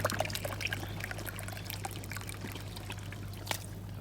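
Tap water runs at weak pressure into a pigeon loft's drinking container, a thin steady trickle and splash that continues throughout over a constant electrical hum.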